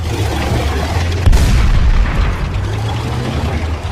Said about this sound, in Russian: Танк.